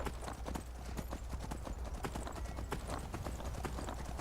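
Horse hooves clip-clop in the video game Skyrim, a steady, rapid run of hoofbeats, fairly close and even, with no talk over them.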